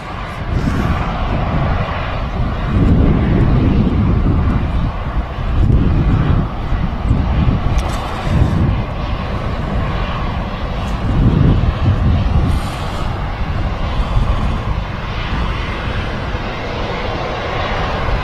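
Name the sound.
EasyJet airliner passing at Manchester Airport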